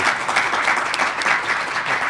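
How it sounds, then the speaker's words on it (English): A dense, steady round of applause from an audience at a job placement event, loud and continuous for a couple of seconds with no talk over it. "let's give Gerald a hand of applause, please"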